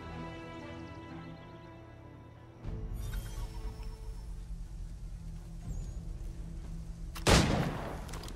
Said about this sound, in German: Geht in Position, aber wartet, bis ich den ersten Schuss abgebe.